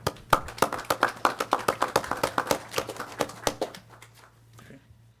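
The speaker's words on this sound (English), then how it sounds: "a special round of applause for everybody" A small group claps at a city council meeting in Pico Rivera, with sharp, distinct handclaps in quick rhythm that thin out and fade to quiet near the end.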